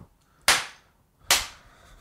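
A clapperboard snaps shut twice at the start of a podcast recording, each a sharp, loud crack with a short decaying tail, spaced under a second apart in an otherwise quiet room.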